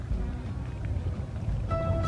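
An outboard motor on a Zodiac inflatable boat drones low and steady as it approaches a beach landing, mixed with wind buffeting and water wash, and a higher tone rises near the end.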